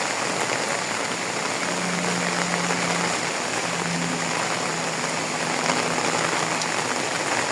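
Steady rain falling during days of downpour and flooding, a dense continuous hiss close by, with a faint low hum in the background and no talking.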